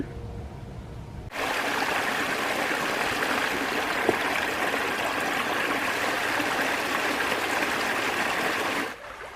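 Creek water flows over the stream bed at a gem mine in North Carolina, a steady, close rushing and trickling that stays even from start to end, with no voices.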